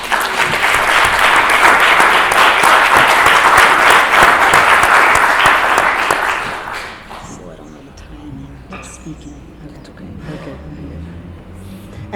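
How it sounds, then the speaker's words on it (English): A conference audience claps at the opening ceremony of the International Gender and Language Association meeting in Montevideo, Uruguay, a full, sustained round of applause that fades after about seven seconds, followed by a speaker talking. "Can we get an applause for that?"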